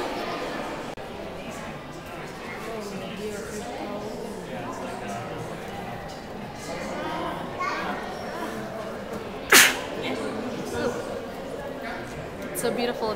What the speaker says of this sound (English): So beautiful, it made me sneeze.